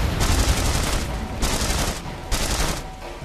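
Bursts of gunfire in the video game The Saboteur, three long dense volleys of rapid shots separated by brief gaps, loud and close with no talking.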